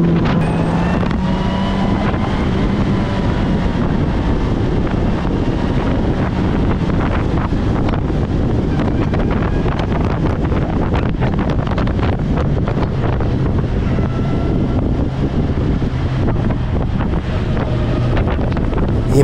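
A Srad 1000 motorcycle with its original stock exhaust rides along with a low, steady engine hum largely buried under constant loud wind rushing over the microphone.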